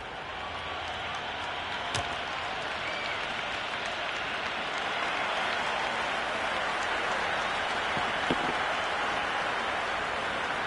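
Dense, steady crowd roar from a cricket ground during a T20 World Cup match, a broad wash of cheering and applause at constant loudness with a couple of brief sharp claps or knocks standing out.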